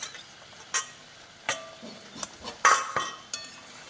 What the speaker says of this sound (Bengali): পনির টুকরোগুলো, ভাজা টুকরোগুলো সব দিয়ে দিলাম।